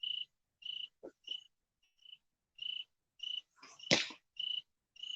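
Crickets chirp outdoors at night beside a fire pit: steady, evenly spaced shrill pulses close by, with a couple of low voice sounds mixed in.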